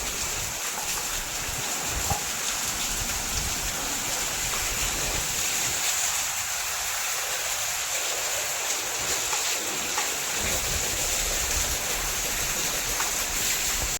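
Heavy monsoon rain and rushing floodwater over rock in a swollen river, a dense continuous roar with wind buffeting the microphone, steady and close throughout.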